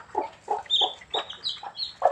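Hens clucking in short repeated bursts, several calls in quick succession, close and clear with no talk.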